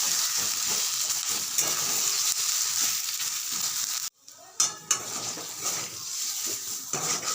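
Taro root paste fries loudly in a pan, a dense close sizzle that drops out for a moment and then resumes with a few scraping stirs.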